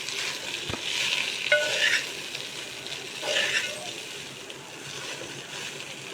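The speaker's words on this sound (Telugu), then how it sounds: "దీన్ని కలుపుకుందాం" Poha, flattened rice, is stirred in a frying pan, making soft rustling and scraping bursts over a faint sizzle, with a couple of sharp metallic clinks from the spoon against the pan.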